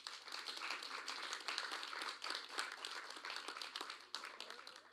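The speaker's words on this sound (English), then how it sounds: "I invite you to give them all a round of applause" An audience at a national tourism debate finals applauds, a dense, sustained patter of many hands clapping at moderate volume for several seconds without speech.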